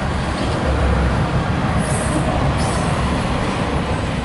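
A Norfolk Southern 20E intermodal freight train, locomotive 8246, rolls past close by, a continuous loud rumble of cars and wheels on rail with a faint squeal of wheels, sustained and steady throughout.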